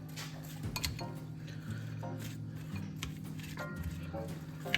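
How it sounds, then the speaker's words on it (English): Clinks and scrapes of a utensil whisking rice wine vinegar dressing with salt and sugar in a bowl, steady and close, with intermittent light taps against the bowl. "Okay, and then we're just gonna mix this up."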